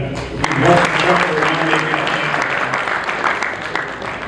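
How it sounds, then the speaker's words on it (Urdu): Listeners at an international Urdu poetry mushaira in Houston applaud a poet, giving a dense, steady burst of clapping with crowd noise throughout. "ذرا زوردار تالی"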